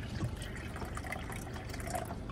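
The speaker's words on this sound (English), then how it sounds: "let's fill the water again." Water runs steadily into a container, a continuous close splashing and gurgling pour with small drips, no talking.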